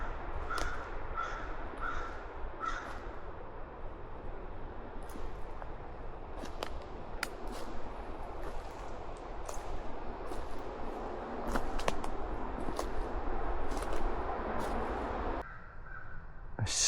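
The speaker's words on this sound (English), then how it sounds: "All I can really hear is that dang crow." A crow caws repeatedly in a rainy forest, sharp calls spaced through the clip over a steady wash of rain and background noise, no talk.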